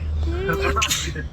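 A single sharp sneeze bursts out over a steady low hum, preceded by a brief voiced sound.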